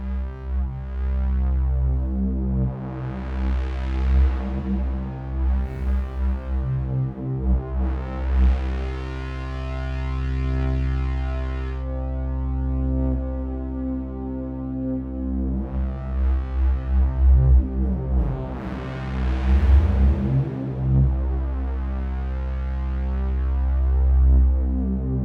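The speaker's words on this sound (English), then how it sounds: "What if I ran the whole thing through a reverb to give it some natural sounding space?" Sustained synthesizer chords swell and fade in long washes, blurred by a spacious reverb tail, with a steady low drone underneath throughout.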